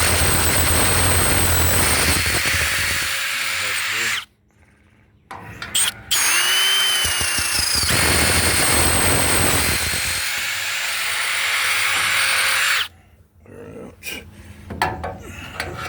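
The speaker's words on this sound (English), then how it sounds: "Okay, about to ream this hole." A power reamer cuts a hole in a prototype narrow crossmember for a 1953-56 Ford F-100, giving a loud, steady grinding whine in two long runs separated by a brief pause and followed by clatter.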